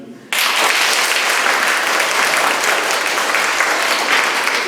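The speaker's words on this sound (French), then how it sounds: "vous l'applaudissez pas très fort, je pense que vous pouvez faire bien mieux" A French book-prize audience breaks into louder applause after a quiet moment, the clapping starting abruptly and staying dense and strong throughout.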